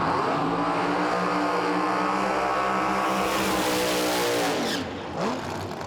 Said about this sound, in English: Emilio Spinozzi there in a Chevelle backing up here in front of us